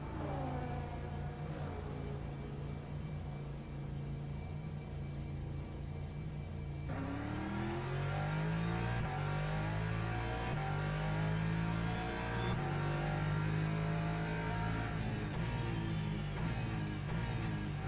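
Ferrari race car engine at Spa in a racing video game, a steady, loud engine drone that rises sharply in pitch as it accelerates through the gears, with no speech over it.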